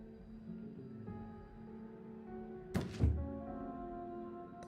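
In Syberia: The World Before, a dropped gun lands with two quick hollow thuds close together over a steady, droning in-game ambient tone.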